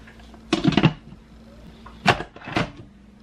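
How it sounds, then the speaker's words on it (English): A lid is set onto a crock pot in a home kitchen: three short, close clattering knocks separated by a quiet background hum. "Now we can put our lid on."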